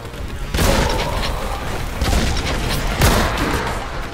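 Booming shotgun blasts from the Warhammer 40,000: Boltgun video game, two heavy shots about two and a half seconds apart over a dense, rumbling layer of game noise.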